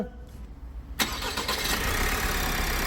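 A 1.6-litre Opel Astra K engine cranks and catches at about one second, then settles into a steady, loud idle close by, after a quiet lead-in with faint background noise.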